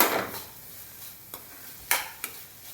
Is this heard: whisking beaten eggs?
yes